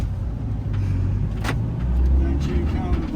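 Vehicles squeeze past on the narrow, winding Kotor Serpentine road. Engines rumble close by and swell as the cars go by, loud and steady throughout.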